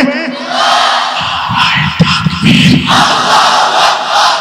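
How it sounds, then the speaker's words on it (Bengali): A large crowd at an outdoor Islamic religious gathering shouts takbir in unison, a loud roaring chant that swells and repeats in waves, led by a single amplified voice. "সবাই মিলে একটা তাকবীর হবে, চলবে?"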